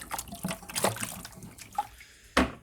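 Plain, clear sugar water made with dextrose for homebrew beer is poured and stirred in a garage, giving splashy, sloshing liquid noises in uneven bursts with a sharp splash near the end.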